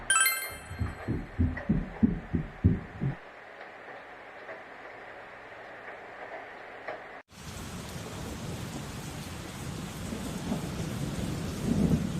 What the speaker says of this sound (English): You can hear it raining outside.